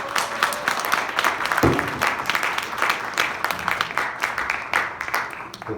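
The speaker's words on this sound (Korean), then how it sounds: "다시 한번 큰 박수 부탁드립니다." Applause from an audience at a church high-school group festival: loud, continuous clapping with sharp individual claps standing out, running steady throughout before tapering slightly at the end.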